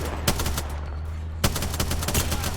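Rapid automatic gunfire in the Apex Legends video game, loud bursts of shots with sharp cracks, a pause, then another sustained burst, up close.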